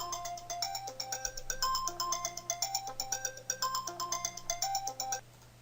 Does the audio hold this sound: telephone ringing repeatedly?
yes